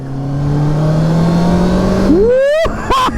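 A 2023 Honda CBR650R sport motorcycle's inline engine hums steadily under light throttle, then revs up sharply in a rising whine before cutting off and blipping again, loud and close.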